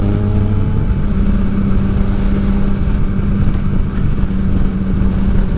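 A group of motorcycles sets off together on a Sunday ride toward coffee in Loutraki, engines droning steadily and loudly up close with a constant low rumble and no talk.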